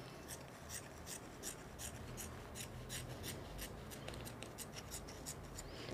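Scissors snip through garment fabric along a back neckline, a steady series of crisp, close cuts at an even rhythm, quiet and alone.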